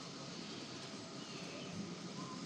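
Model railway Class 37 locomotive pulling a rake of steel trucks, a steady low rumble of wheels on track running continuously and fairly quiet, with no talking.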